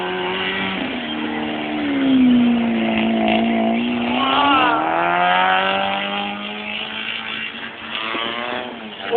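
Two-wheel-drive cars racing on snow, with engine notes rising and falling as they rev and pass, nearby and fairly loud, with a brief voice partway through.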